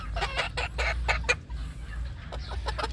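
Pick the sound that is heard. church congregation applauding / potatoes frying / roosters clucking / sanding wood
roosters clucking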